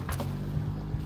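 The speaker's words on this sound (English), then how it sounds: "So, the engine's going." Boat engine idling while out on the Indian Ocean, a steady low droning hum with a brief higher whoosh near the start, close and continuous.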